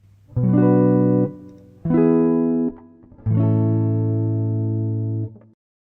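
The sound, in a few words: guitar playing a 2-5-1 chord progression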